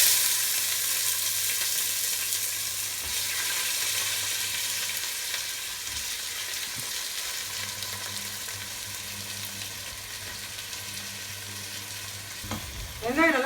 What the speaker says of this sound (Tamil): இப்போ வெங்காயம் போட போகிறேன். வெங்காயத்தை வதக்கணும்.